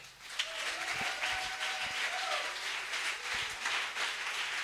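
A church congregation at a Sunday service applauds its prophets with dense, continuous clapping that fills the room at steady loudness, lasting throughout without a break.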